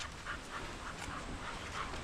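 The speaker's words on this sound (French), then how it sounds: "ça doit être le chien le plus mignon que j'ai jamais vu de ma vie" A dog pants steadily up close, soft rhythmic breaths with faint mouthing as it gently chews on fingers, steady throughout with no talking.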